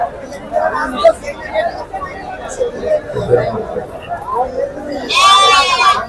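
Large sheep and rams at a livestock market in Pebbair: a close, wavering bleat rises near the end over steady crowd chatter, with people talking throughout.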